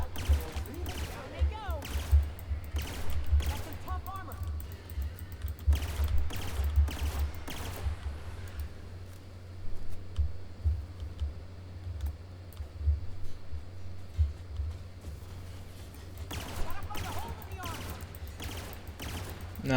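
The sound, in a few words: gunfire from a video game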